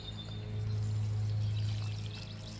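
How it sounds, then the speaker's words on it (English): Water mixed with a water-retaining additive is poured from a gallon jug over freshly potted garden plants, a soft, close trickle and splash that swells briefly and then fades, with faint birdsong behind it. "And now we're just going to pour it over our"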